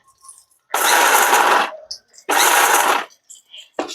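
A kitchen mixer grinder whirs in two loud, short bursts as it grinds fried onions for chutney, with brief quiet gaps and a third burst starting at the end.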